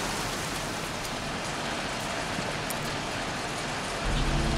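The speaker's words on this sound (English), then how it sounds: "Jeez, won't this rain ever let up?" Steady, heavy rain pours down in a rainy scene from the video game Heavy Rain, a dense unbroken hiss with no voices, swelling slightly louder near the end.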